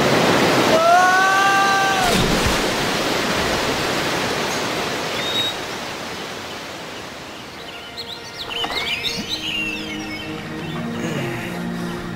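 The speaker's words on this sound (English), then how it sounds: "The great waterfall!" Large waterfall giving a constant broad roar from start to finish, with a few bird calls and chirps above it.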